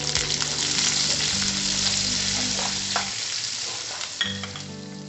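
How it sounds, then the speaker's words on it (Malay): Garlic and shallots sizzle in hot oil in a pan over medium heat for a black pepper beef dish, with a steady close frying hiss and occasional stirring scrapes throughout. "Panaskan sedikit lagi minyak. Tumiskan bawang putih."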